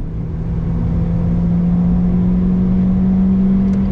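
Renault Clio 3 RS 197 engine running at steady elevated revs, a loud continuous mid-pitched hum with a droning tone, held near and constant throughout with no voices.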